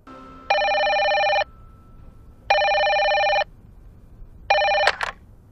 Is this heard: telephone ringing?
yes